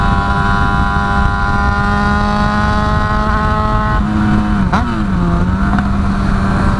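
Motorcycle with a Shorty GP exhaust running loud and close, a steady rough idle drone that rises briefly in a quick rev with a sharp pop before settling back down.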